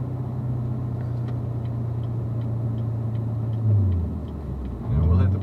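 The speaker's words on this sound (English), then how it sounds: "we're going to hit the gas when we're getting on the freeway" A car on a freeway on-ramp, its engine droning steadily with ticking under it, then the pitch sweeping down and back up as it shifts and accelerates, with voices talking.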